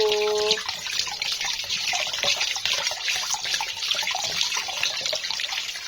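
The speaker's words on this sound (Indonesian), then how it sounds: "Sekarang aku nyuci telur. Aku cuci mau ngerebus telur rebus" Eggs being washed under a running kitchen tap, heard as a continuous close hiss and splash of water with small drips and handling sounds. Nobody speaks.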